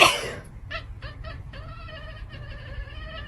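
After a brief cough, a cat gives a string of short, thin, high meows at close range, repeated several times in a quiet room.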